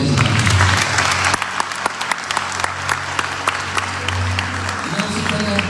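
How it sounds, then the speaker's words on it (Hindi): Steady loud clapping from a congregation during live worship at St Andrews Church in London, a dense even applause that carries on for several seconds, with brief voices over it near the end. "तालियां बजाते खुदा के साथ"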